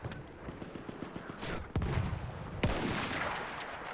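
Gunfire in the video game Battlefield 1 starts as a rapid, fairly faint volley, followed by two loud, sharp shots about a second apart that ring out and leave a lingering rumble.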